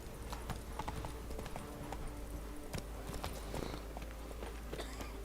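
Horse galloping in The Witcher 3 video game, hooves clopping in a quick irregular rhythm, fairly faint with soft background game ambience.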